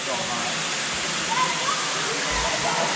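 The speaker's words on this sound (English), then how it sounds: "The waterfall." Ozone Falls in the Tennessee woods roars as a steady, broad wash of falling water, loud and close, unbroken throughout, with faint voices barely rising above it.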